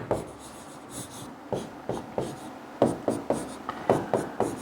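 Chalk or marker writes on a board in short scratchy strokes, a series of quick taps and scrapes with brief pauses between them, close and fairly clear.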